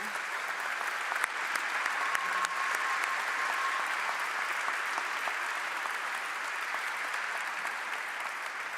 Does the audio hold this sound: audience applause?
yes